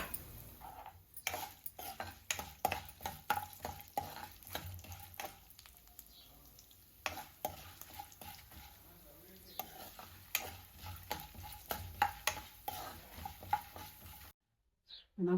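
Chana dal, urad dal and cumin seeds fry in a pan with fenugreek for a gooseberry pickle tempering. A continuous soft sizzle runs under rapid scraping and clinking as a spoon stirs against the metal, ending abruptly.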